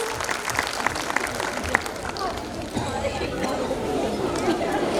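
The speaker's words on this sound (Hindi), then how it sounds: "बस एक बार जोरदार तालियां हो जाए।" Audience at a school annual function applauding after a children's performance, steady clapping mixed with crowd chatter and voices throughout.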